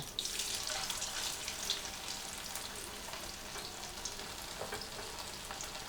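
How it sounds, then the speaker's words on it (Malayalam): Chicken pieces fry in hot coconut oil with curry leaves for a Kerala-style dry fry, giving a steady broad sizzle throughout with small crackles and pops, no voices. "അതിനുശേഷം നമ്മൾ എടുത്തു വച്ചിരിക്കുന്ന ചിക്കൻ ഓരോ പീസായിട്ട് ഇടാം."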